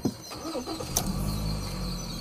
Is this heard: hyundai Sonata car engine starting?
yes